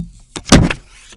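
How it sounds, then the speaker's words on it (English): Protective film is peeled off a Samsung Galaxy S4: a short, close, crackly ripping burst lasting about half a second, loud against quiet surroundings. "One of my favorite parts of any unboxing, the film peel."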